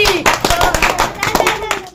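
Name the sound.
audience applause for a challenge contestant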